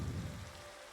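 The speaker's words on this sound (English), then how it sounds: "There's nothing better than the sound of Minecraft rain." Soft, steady patter of Minecraft rain, faint and even throughout, with no talking.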